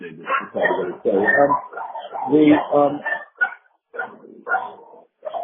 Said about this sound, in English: We can hear your dog.